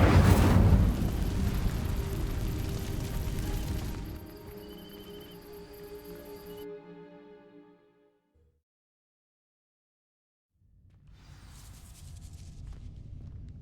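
In Hogwarts Legacy, an Incendio fire spell sets dry vines alight with a loud roaring whoosh and crackle that slowly dies away into silence before a low ambient rumble returns.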